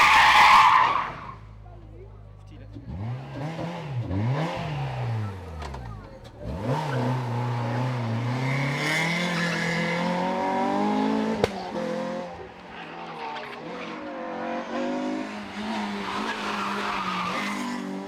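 A Renault Clio RS race car on a hill climb brakes hard with a long tire squeal and skid, the engine revving and gear changes following, close and loud throughout, with a commentator talking over it.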